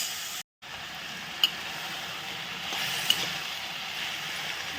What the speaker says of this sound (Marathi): नंतर डांगर टाकायचं परतून घ्यायचं डांगर